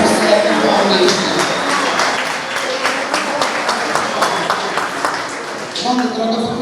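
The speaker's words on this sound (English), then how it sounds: "Give them a round of applause because they are the ones who set the foundation." Applause from a fundraiser party audience: a steady, dense wash of many hands clapping fills the room for several seconds, with a few people talking underneath.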